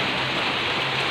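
Heavy rain from Typhoon Kristine pours down in Manila, a dense, loud, unbroken roar of water hitting surfaces, with no voices.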